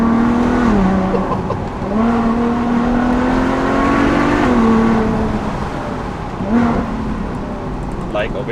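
A Ferrari FF with a naturally aspirated V12 screams up through the gears on a mountain pass, loud and close, the engine note climbing, dropping at each shift and climbing again, echoing off nearby stone walls.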